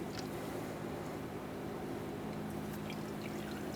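Brake fluid running from an opened bleeder valve on a 2011-2018 Ram 2500 during brake bleeding, a steady, faint pouring trickle with no voices.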